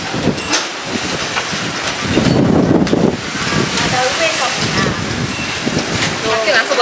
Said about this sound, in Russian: Пока ветер дует, я молчу, потому что меня не будет слышно наверняка.